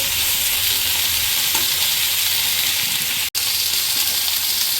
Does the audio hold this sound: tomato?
yes